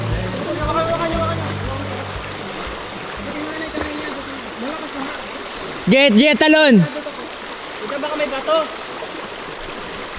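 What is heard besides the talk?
strong river current of rushing water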